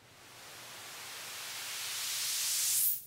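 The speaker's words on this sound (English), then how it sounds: "Transit has a noise module, which sounds like this." A synthetic white-noise sweep rises steadily in brightness and loudness for about three seconds, then cuts off abruptly.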